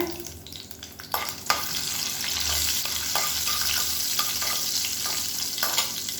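Fenugreek, fennel seeds and three dried red chillies sizzle in hot oil while tempering for a Tamil fish kulambu, a steady frying hiss with occasional stirring scrapes and brief pops, close and continuous with no talk.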